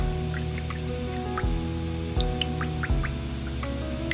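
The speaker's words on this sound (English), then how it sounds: "I'm going to take my soapy water now, and I'm going to clean that brush off." A paintbrush swishes in a cup of soapy water while cleaning after watercolor painting, with soft dripping and liquid sloshes and a few brief knocks against the container, close and fairly quiet, with a steady hum underneath.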